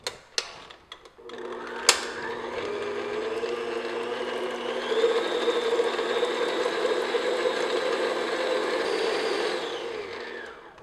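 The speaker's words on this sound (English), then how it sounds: "we're going to just beat these until they're nice and creamy and smooth" An electric mixer whirs steadily as it beats full-fat cream cheese frosting for carrot cupcakes, a loud continuous motor drone with a few sharp knocks at the start and a rise in pitch midway.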